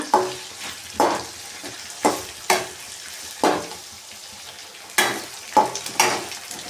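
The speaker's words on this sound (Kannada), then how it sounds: "ಸ್ವಲ್ಪ ಕಲರ್ ಚೇಂಜ್ ಆಗೋವರೆಗೂ ಫ್ರೈ ಮಾಡ್ಕೊಳ್ಳೋಣ" Onions stir-fry in a pan under a constant sizzle, with a spatula scraping and tapping in regular strokes about once a second. The sound is close and clear, and nobody speaks.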